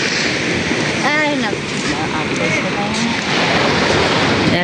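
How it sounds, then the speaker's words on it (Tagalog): High sea waves roll and crash continuously along a shoreline, a loud, steady rush of surf and wind, with people talking faintly over the noise. "sobrang po tataas ng alon"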